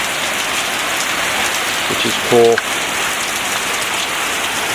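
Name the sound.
rain falling heavily outside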